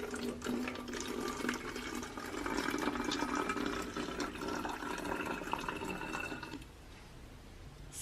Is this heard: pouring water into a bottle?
yes